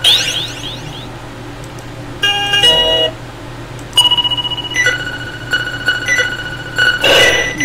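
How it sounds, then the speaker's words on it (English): Retro electronic laser shots from Arkanoid II: Revenge of DOH on the Apple IIgs, heard as bright, synthetic tonal zaps and bleeps. Some come singly and some in quick rhythmic bursts, loud and up close, with no talking. "Shoot the whoop, I'm firing my lasers."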